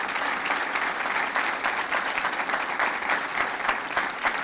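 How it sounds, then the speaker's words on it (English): Large audience at a presidential event applauding members of Congress, loud and continuous clapping from many hands that holds steady throughout with no break. "give these members of Congress a round of applause"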